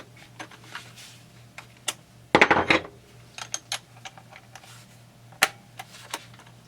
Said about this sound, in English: Let's remove the ignition coil here.